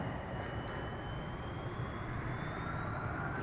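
An airliner takes off at DFW Airport, its engines a broad, steady roar with a faint rising whine, heard from a distance without pause.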